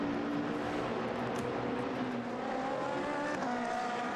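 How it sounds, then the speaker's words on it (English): The number 10 Ferrari GT race car in the Blancpain Endurance Series powers through the Lesmo bends at Monza, its engine a loud, sustained roar with a steady rising pitch and no voices over it. "there is number 10 Ferrari working its way up through the Lesmo bends"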